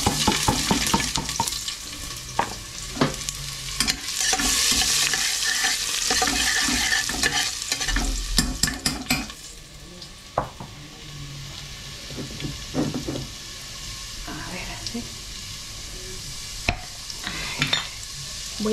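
Chopped garlic fries in a red-hot pasta pot, giving a loud, steady sizzle with occasional stirring clatter that eases to a softer fry in the second half; no voices.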